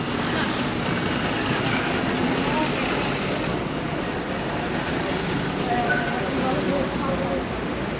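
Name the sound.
city bus at a bus stop in Niš, Serbia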